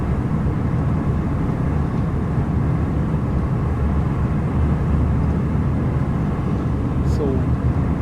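An airliner takes off in a flight simulator, its jet engines making a loud, steady broadband roar that continues evenly throughout.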